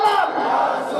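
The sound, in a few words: crowd chanting Nara-e-Takbir slogan in response to speaker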